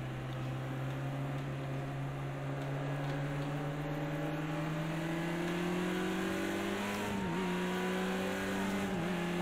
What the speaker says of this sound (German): Jetzt höre ich auch deinen Motor.